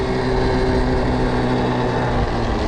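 A Stark Varg electric motorbike ridden at power map 1 gives a loud, steady electric whine layered over rushing wind and road noise, continuous for the whole stretch with no voices.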